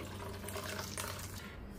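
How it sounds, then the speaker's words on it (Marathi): Water is poured into appe batter in a short, steady splashing trickle, close and fairly quiet, with no voices. "याच्यामध्ये थोडंसं पाणी घालते।"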